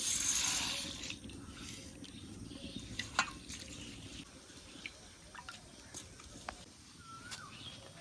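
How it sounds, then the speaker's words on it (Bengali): Red lentils washed in water by hand: soft, faint splashing and dripping with occasional small swishes, quiet and close. "আলুগুলো সিদ্ধ হতে হতে মুসুর ডালগুলো ধুয়ে নেবো"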